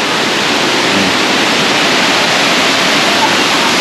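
Waterfall at Engkanto Falls in Libmanan, Camarines Sur, a loud, steady broadband rush of falling water that fills the whole clip without a break, close by and constant.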